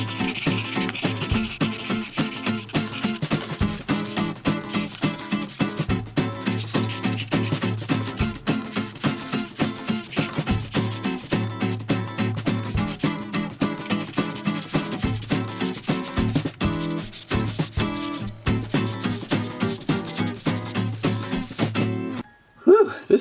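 Heavy-grit sandpaper rubs back and forth in quick, steady strokes against a clear plastic Jurassic World amber toy piece, close up and continuous for about twenty seconds before stopping.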